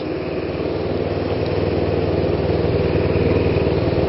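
Small motorcycle engine, a Kawasaki Ninja 250, idling with the choke on, holding a steady, slightly fast, even putter, close and loud with no pauses.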